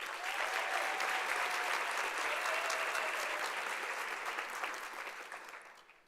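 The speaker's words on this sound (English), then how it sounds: "Another round of applause for the Vets Choir." Audience at a university graduation ceremony applauding the Vets Choir, a dense, steady roar of many hands clapping together that holds for several seconds before tapering off at the end.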